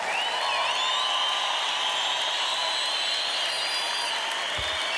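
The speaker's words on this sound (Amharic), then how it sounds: "ረገጥ ያለ ጭብጨባ፣ ጩኸት፣ ፉጨት" Church congregation at a worship service, applauding, shouting and whistling together; a dense, steady roar of clapping and cheers with high whistles running over it, sustained throughout.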